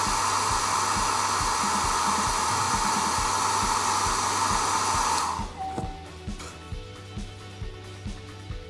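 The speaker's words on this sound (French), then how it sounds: "On va sécher un petit peu avec le sèche-cheveux." A hair dryer blows with a steady, loud whir for several seconds, drying a 1/72 scale plastic model aircraft, then switches off, leaving faint rhythmic tapping.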